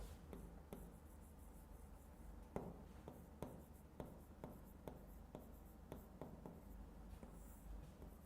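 Writing on a board during a geography lecture on ocean currents: soft scratching strokes and a series of sharp taps spaced about half a second apart, faint against a low room hum, with no talking.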